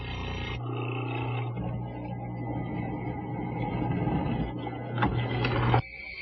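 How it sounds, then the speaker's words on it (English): A hollow chisel mortiser bores and squares a mortise in wood for a French side table, a loud motor whine with a grinding cutting roar that builds and then stops abruptly. "Now let's dig it out. The bit will remove most of the material. The chisel will square it up."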